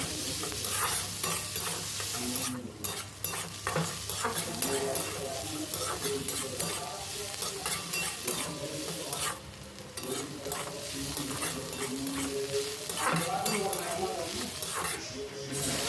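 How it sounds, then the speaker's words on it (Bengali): Chopped onions fry in a pan for a Bengali fish kalia, a soft continuous sizzle broken by repeated scraping strokes of a stirring spoon, while a person talks over it. "এখানে পেঁয়াজটা হালকা ভেজে নিতে হবে"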